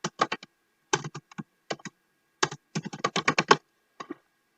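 Keys clack on a computer keyboard in short bursts of quick taps separated by brief pauses, close and clear with no voices.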